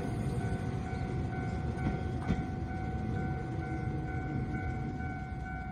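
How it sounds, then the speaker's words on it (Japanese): Passing Nagareyama Line train: a steady, close rumble of wheels on rail with faint sustained tones and a couple of light clacks, holding level throughout. "毎度いきなり電車ですみません"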